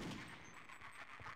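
Gunfire in the video game Half-Life: Opposing Force comes as a quick cluster of several faint, rapid shots mixed into game noise, with no speech.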